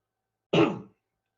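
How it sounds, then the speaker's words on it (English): A single short, harsh throat clearing from someone with a cough, close and fairly loud, lasting under half a second before silence returns. "when you have a cough, sometimes it is pretty challenging to clear"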